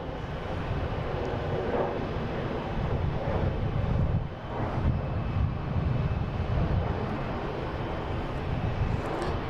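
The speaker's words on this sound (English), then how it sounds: "They have a Cape Air in front of it taking off, it looks like." Cape Air airplane taking off at Boston Logan airport, a steady broadband engine roar at middle distance with wind buffeting the microphone, swelling slightly toward the middle before settling.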